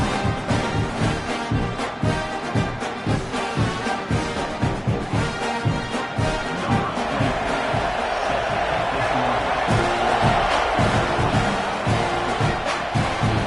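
Stadium crowd at a night college football game in a video game, Buckeyes on the field, a loud continuous roar and cheering with rhythmic thumping beneath, steady throughout with commentary-like voices mixed in.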